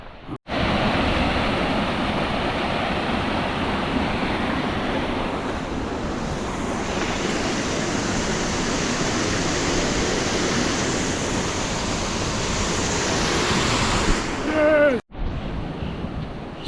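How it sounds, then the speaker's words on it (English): Waterfall near Imlil in Morocco's Toubkal area, a steady close roar of rushing water with broad hiss that holds constant throughout, cutting out abruptly near the end before resuming. "And this is where we get to see the waterfalls."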